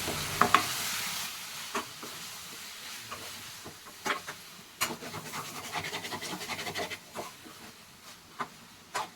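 Chicken sukka stirred in a pan, a spatula scraping and clattering in irregular bursts over a low sizzle, close and fairly loud.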